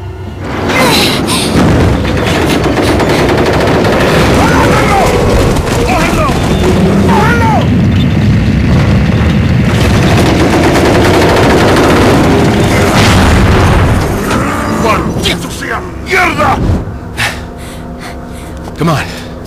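Gunfire in the video game Resident Evil 4: repeated sharp shots and heavy booms, loud and close, thick with constant game noise, while people talk over much of the action.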